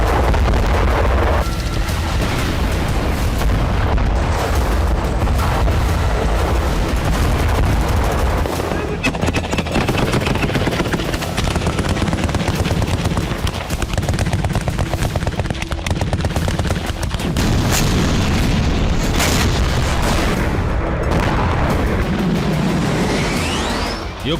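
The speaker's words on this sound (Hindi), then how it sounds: "यूक्रेन के तमाम बड़े शहर रूसी अटैक से दहल रहे हैं।" Dense, continuous gunfire and booms from Russian attacks on Ukrainian cities during wartime, loud and unrelenting throughout with overlapping bursts and low rumbling impacts, no voices heard.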